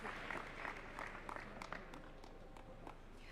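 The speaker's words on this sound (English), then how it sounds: "A better round of applause, please, for them" A seated audience at a live national forum applauds the panel, a steady wash of claps held back and somewhat distant, with a few sharper individual claps standing out.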